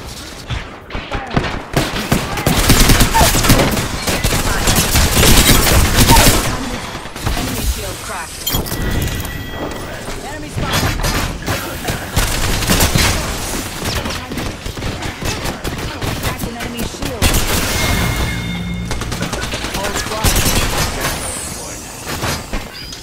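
Rapid bursts of automatic gunfire from the Apex Legends video game crackle loudly in dense volleys, pausing briefly between clusters, with game sounds and occasional voices mixed underneath.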